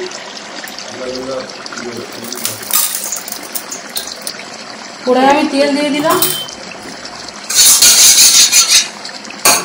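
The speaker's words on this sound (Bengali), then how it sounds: "কড়াইয়ে আমি তেল দিয়ে দিলাম।" Oil is poured into a wok while cooking appam, giving a short gushing trickle with metallic clinks of utensils against the pan, and a voice talks in between.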